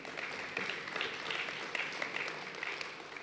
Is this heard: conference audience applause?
yes